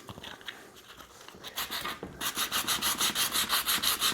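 An arcade control panel box is sanded by hand with coarse 120 grit sandpaper, giving close, raspy rubbing strokes that start irregular and then settle into a fast, steady back-and-forth rhythm of about a dozen even passes.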